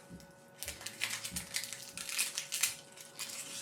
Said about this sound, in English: Just cut the onions in half.